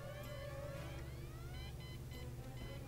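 An electronic alarm in the point-and-click adventure game Deponia beeps in short repeated tonal bursts over a low steady background hum, fairly quiet throughout.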